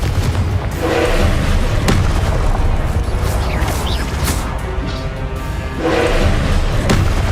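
Blasting-spell explosions from Confringo in Hogwarts Legacy boom over loud, dense combat noise, with several heavy bursts and thuds landing in quick succession.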